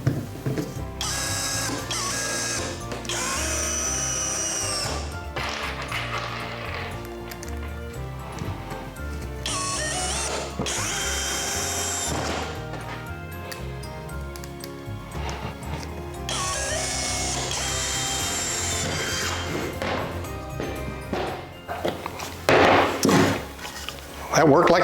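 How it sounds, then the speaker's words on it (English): A cordless drill drives wood screws in repeated bursts, whirring and straining with mechanical clatter between runs, while a person talks throughout. "let's go ahead and test wood screws using the drill"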